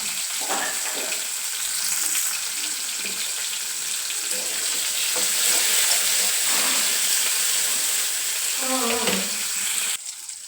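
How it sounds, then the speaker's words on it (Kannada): Green chillies and tomatoes frying in oil in a home kitchen pan, a continuous soft sizzle with faint scraping and stirring, close and steady throughout. "ಹಸಿಮೆಣಸು ಟೊಮೆಟೊ 2 ಕೂಡ ನೀಟಾಗಿ ಫ್ರೈ ಆಗಲಿ."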